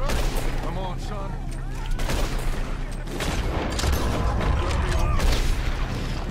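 Heavy gunfire and booming shots in a Red Dead Redemption 2 sugar factory fight, loud and continuous with bursts of cracks, and a player talking over the action.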